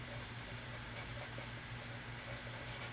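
A hand writes an algebra inequality, pen or marker strokes scratching faintly in short bursts over a low steady hum, with no talk.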